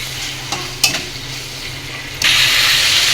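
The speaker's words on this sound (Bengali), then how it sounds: "এই তেলে এখন আমি ক্যাপসিকামগুলো হালকা করে ভেজে নেব।" Sliced capsicum frying lightly in leftover oil after chicken, for Chinese chilli chicken; a steady close sizzle with a few scraping stirs early, swelling into a louder, brighter hiss near the end.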